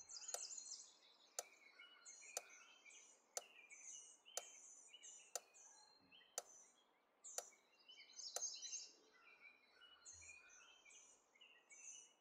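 Birds chirp in a balloon video game, with quick high tweets repeating in a loose pattern alongside faint sharp clicks at a steady pace, quiet and with no talk.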